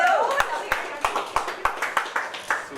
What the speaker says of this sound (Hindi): ग्लेन एक बार जोरदार तालियां चाहिए ग्लेन के लिए